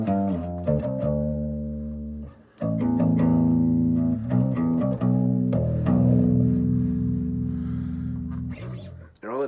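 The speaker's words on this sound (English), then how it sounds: "Because the bassman has a limiter switch, which is kind of like a natural compression that the amp does itself." Bass guitar played through a Fender Bassman amp with its built-in limiter switch engaged for light compression, loud close notes with sustained low tones and a few short pauses.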